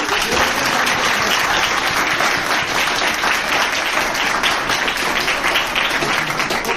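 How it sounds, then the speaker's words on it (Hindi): An audience applauds an elderly uncle at a Vestige leaders' testimonial gathering, with dense, even clapping that stays loud and continuous throughout. "अंकल जी की तालियां सुनिए"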